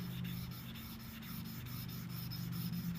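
A steel blade rubs back and forth on a King water stone building a slurry, a steady wet grinding swish with regular strokes, close and fairly quiet, with no talk.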